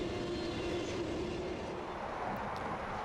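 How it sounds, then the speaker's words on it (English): A Kansas City Southern eastbound double-stack freight train rolls past near Vicksburg, a steady continuous rumble of wagons with faint wheel clatter, close and unbroken throughout. "This stack train is the first of 4 eastbounds, all right on each other's tails"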